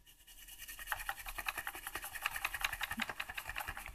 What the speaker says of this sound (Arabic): ننظف بقى مكانه بالتنر